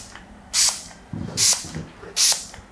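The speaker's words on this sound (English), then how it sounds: "So, a bit of salt spray." Three short, forceful hisses of a salt spray hair product bottle, evenly spaced and close, with soft rustling between them.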